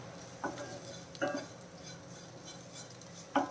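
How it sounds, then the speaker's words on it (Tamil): Snake gourd curry being stirred in a pan with a spoon, three short scraping strokes against the metal over a faint steady sizzle, close and alone with no voices. "கொஞ்சம் கிளறி விட்டுப்போம்."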